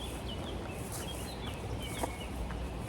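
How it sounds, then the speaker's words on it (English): Birds sing and chirp intermittently in woodland, with short bright calls standing out over a steady outdoor wind and ambient hiss; no one speaks. "Can enjoy the bird song as well."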